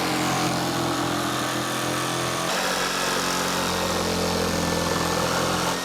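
A jigsaw cuts a hole in a van's metal side panel, giving a loud, continuous, high buzzing whine that holds steady and shifts slightly in tone partway through, with no speech.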